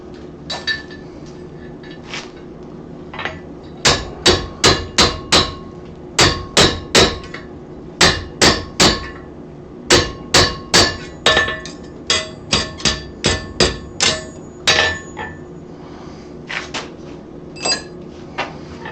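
A hammer striking a metal punch while making a bell, many sharp ringing metallic blows in quick rhythmic runs with brief pauses, loud and close with no talk.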